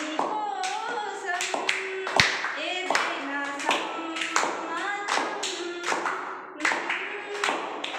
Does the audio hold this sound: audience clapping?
yes